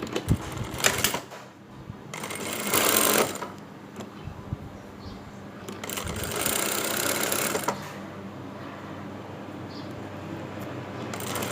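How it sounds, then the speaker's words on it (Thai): A sewing machine runs in short bursts, stitching two fabric pieces together along their 25 cm sides, its close mechanical whirr starting and stopping with brief gaps between runs and no talking. "เอาด้าน 25 เซนมาเย็บติดกัน"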